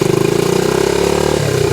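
A motorcycle engine idles steadily up close with an even, rapid pulsing throb, its pitch dipping slightly near the end; no one speaks.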